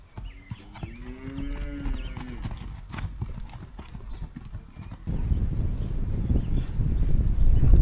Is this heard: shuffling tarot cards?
no